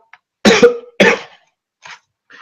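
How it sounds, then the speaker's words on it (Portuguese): Two sharp coughs close up, one after another, followed by a couple of faint throat sounds. "Desculpa pela tosse, gente."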